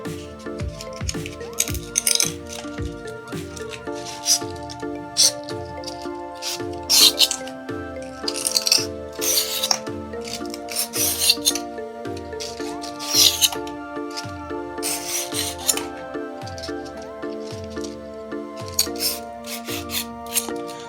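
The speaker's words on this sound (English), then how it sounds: "we are going to remove it with this sandpaper" Sandpaper scrubs back and forth against magnesium ribbon in a home kitchen, stripping its coating in steady repeated rasping strokes, close and moderately loud, over a faint background hum.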